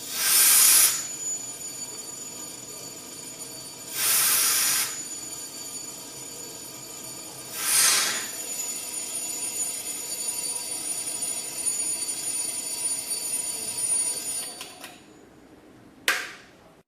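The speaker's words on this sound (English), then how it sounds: "As we open the valve to let more air in, we notice the ringing getting louder." An electric bell rings inside a bell jar as air is let back in, heard as three short bright bursts of ringing spaced a few seconds apart over a steady hum, then a final brief burst near the end.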